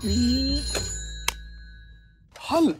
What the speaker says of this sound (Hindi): लैंडलाइन फोन बज रहा है।